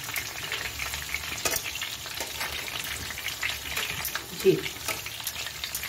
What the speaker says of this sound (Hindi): आप इसको पकाएं ताकि इसका जो है वो चिकन जो है वो भी अच्छी तरह से कुक हो जाए और ये क्रिस्पी भी बन जाए।